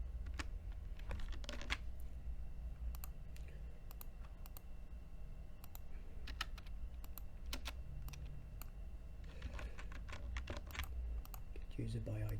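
Keystrokes on a computer keyboard come in irregular bursts of close, crisp clicks over steady low background hum, with quiet talk at times.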